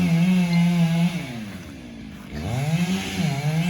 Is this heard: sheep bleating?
no